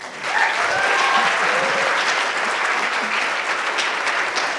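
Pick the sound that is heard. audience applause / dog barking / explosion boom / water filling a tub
audience applause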